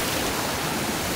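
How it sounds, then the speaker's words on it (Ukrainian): Water rushing steadily into the intake of a small hydroelectric plant in a mountain village, a loud, dense, unbroken roar filling the short moment without pause. "Ось тут затікає вода."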